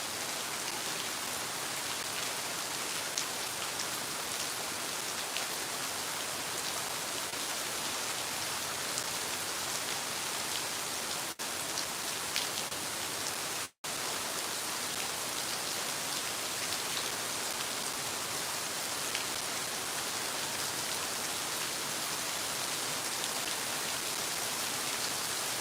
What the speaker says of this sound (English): And that rain getting harder.